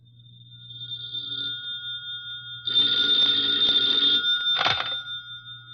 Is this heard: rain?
no